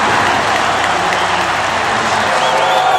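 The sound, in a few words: loud crowd cheering in a football stadium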